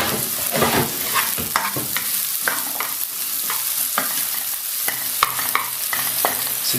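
Garlic sweating in a pan for a mushroom sauce gives a soft, continuous sizzle broken by frequent scraping and clinking from stirring, close and fairly quiet.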